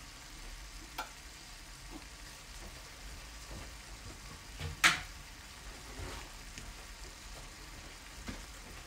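A Moroccan tajine of potatoes and olives simmers with a steady, soft sizzling crackle throughout, close and fairly quiet, broken by one sharper clink or scrape near the middle.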